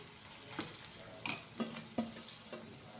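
Sliced onions fry gently in a pan before bitter gourd is added, making a soft, low sizzle. About five distinct spatula scrapes and knocks come at a steady pace, and the kitchen is otherwise quiet.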